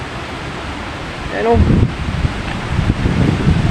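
Strong typhoon Uwan wind lashing Rizal roars steadily and close to the microphone, swelling midway, with a brief spoken word from a person.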